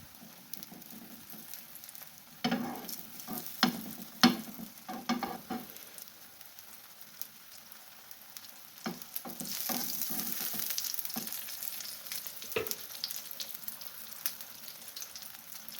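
Bajra roti cooks with ghee on a pan, giving a faint sizzle broken by scattered clicks and taps early on, then a brighter, louder crackling spell midway before it settles back to a low sizzle, with no voices.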